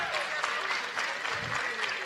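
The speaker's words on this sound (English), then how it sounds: "One more big round of applause for our grade 6 students." A school audience applauds grade 6 students after their performance of A Midsummer Night's Dream: dense, continuous hand-clapping filling the room, loud and unbroken throughout.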